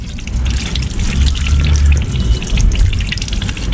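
Water from a hose or sprayer washes steadily over the drive chain of a Yamaha R25 motorcycle, a continuous close rushing spray with low rumble and no pauses.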